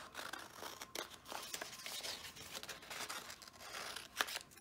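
Scissors cut a paper sheet out for a journal, a soft, continuous rustle of close snipping and paper crinkle, faint but steady, with one slightly sharper cut near the end.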